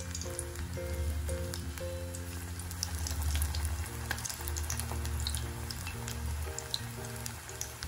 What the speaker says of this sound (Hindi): अब हम अपने पकोड़े जो है फ्राई कर लेंगे।